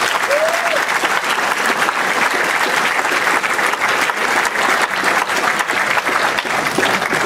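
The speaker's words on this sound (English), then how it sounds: "let's give him a big round of applause" A town hall audience in Union gives a big, sustained round of applause, dense and loud throughout with no letup, with faint voices mixed into the clapping.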